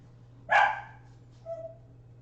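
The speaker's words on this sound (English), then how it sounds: "3 dogs that get very territorial of the front door." A dog that is territorial about the front door gives one loud, sharp bark up close, followed by a shorter, softer yip or whimper about a second later, in an otherwise quiet room.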